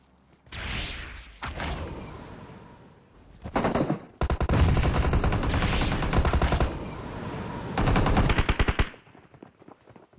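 Rapid automatic gunfire in PUBG Mobile, several close, loud bursts with short pauses between them, mixed with thuds and whooshes from the game.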